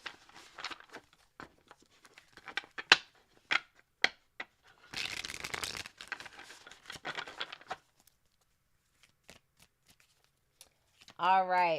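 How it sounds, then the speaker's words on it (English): Tarot cards being shuffled by hand in a series of quick riffling bursts and soft flicks, with a longer dense shuffle in the middle, close and fairly quiet, with faint voice-like sounds at the end. "Two more shuffles for super chat answers in order"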